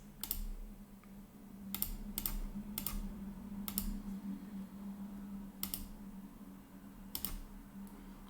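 Password being typed on a computer keyboard: scattered, quiet individual key clicks spaced irregularly over several seconds against a steady low hum, with no voices.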